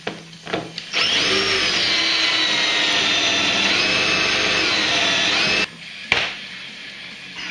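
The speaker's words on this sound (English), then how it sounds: "I'm going to pop another rivet down here as well" A rivet tool sets a rivet into a Pro RMK snowmobile airframe board with a loud, steady whining drone lasting about five seconds, bracketed by short clicks and clunks before and after.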